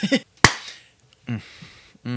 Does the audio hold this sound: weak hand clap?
yes